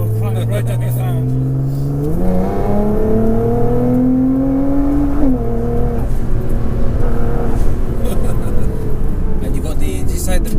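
A Liberty Walk Nissan GT-R on a private road, the engine loud and close as it accelerates through a gear change with a rising whine, then pulls steadily; people talk inside the car over the engine.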